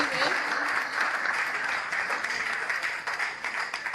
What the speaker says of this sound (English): And big thanks, big clap for Saurabh